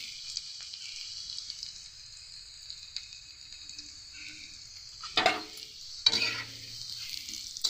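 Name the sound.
onions frying in a pan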